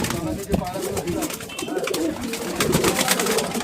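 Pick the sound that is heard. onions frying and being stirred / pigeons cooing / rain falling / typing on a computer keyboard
pigeons cooing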